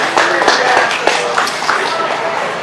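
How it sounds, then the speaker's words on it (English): A crowd claps at a festival welcome ceremony, a steady spread of applause with a few sharper individual claps standing out near the listener, holding at an even level throughout. "Give a round of applause."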